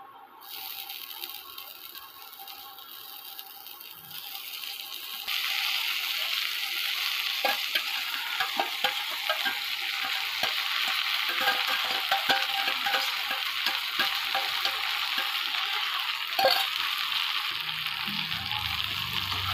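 Meat and Gobindobhog rice for bhuna khichuri stirred together in a pan, a continuous sizzle with repeated scraping and clinking of the spoon, growing louder after the first few seconds.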